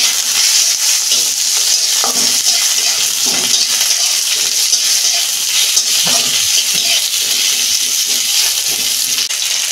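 Tomato goes into onions frying in a pan and is stirred through them, giving a loud, continuous hiss with faint scraping and knocks underneath, steady for the whole stretch.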